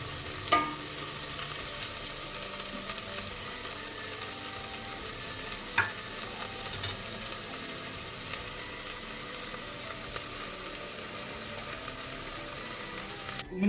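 Minced chicken sizzling steadily in a pan for soup, with occasional spoon scrapes and knocks as it is stirred, a constant close frying hiss and no talk.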